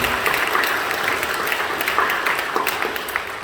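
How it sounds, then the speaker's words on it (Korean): A church congregation at a Korean worship service breaks into applause, a full, even clatter of many hands sustained for several seconds with no speech over it. "박수를 격려해 주시죠"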